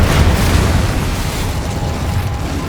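Incendio fire spell cast in Hogwarts Legacy: a loud, roaring whoosh of flame with a dense rumbling burst that holds steady throughout, no voice over it.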